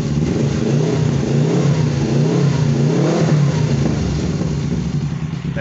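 A Suzuki GS500F motorcycle fitted with a universal Akrapovic-style muffler revs loudly and close by, its engine note swelling and falling in repeated throttle blips over a steady rumbling idle.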